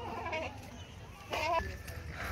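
Rajanpuri goat bleating at a goat farm, a short nasal cry rising briefly above someone talking nearby, with faint background bleats from other goats.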